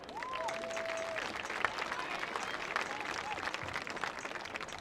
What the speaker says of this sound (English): please give one more round of applause for our 2025 Blair Football Senior Class